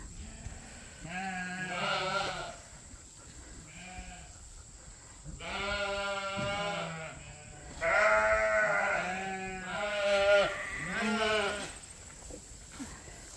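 Sheep and fall lambs bleat repeatedly on a farm, several loud, close calls overlapping in bursts with short gaps between them, over a steady background hum.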